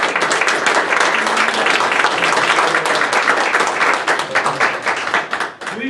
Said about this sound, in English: a round of applause for your new officers and community support.